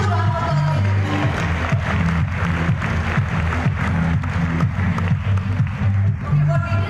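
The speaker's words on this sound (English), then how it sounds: "Give them a huge round of applause" An audience at the inauguration of a restaurant summit in India claps steadily throughout, with a dense, sustained patter of many hands under a low background murmur.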